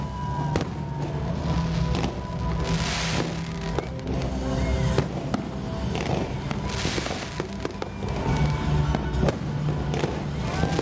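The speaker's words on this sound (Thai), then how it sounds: "ในเวลาเดียวกันก็มีพลุได้เนี่ย" Fireworks burst continuously over Bangkok at a New Year countdown, a dense run of loud cracks and booms with crowd noise underneath.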